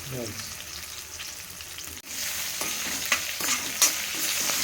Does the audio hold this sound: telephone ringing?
no